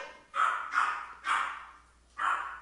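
A dog barks indoors in four separate sharp barks spaced irregularly, close and fairly loud, with no talking over them.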